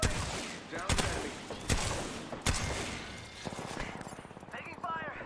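Apex Legends gunfire rattles in bursts of sharp close shots, with several distinct loud cracks followed by rapid mechanical clatter, while in-game voice chatter runs underneath.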